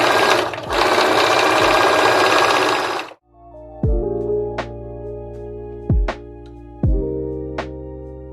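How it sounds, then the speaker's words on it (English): A domestic sewing machine runs in one steady burst of stitching as it sews a drawstring channel along the neckline of a hoodie. A short pause follows, then several brief clicks and thumps that ring out and die away. "Now we're going to sew a channel for our drawstring, starting at one neckline and we'll end at the other."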